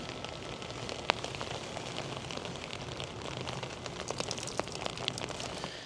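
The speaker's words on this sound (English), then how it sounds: "As you can see, it is still raining out here, folks" Steady rain patters on a motorcycle cover and a driveway, a soft continuous hiss dotted with sharper individual drops, fairly faint and without voices.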